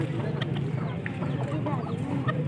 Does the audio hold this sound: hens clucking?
yes